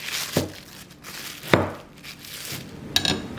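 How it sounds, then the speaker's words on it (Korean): A knife cuts through a chilled, firm log of eggless lemon shortbread cookie dough in three separate strokes, each a short crisp crunch spaced about a second apart, close and fairly quiet, with no talking. "1cm보다 얇게 잘라주세요"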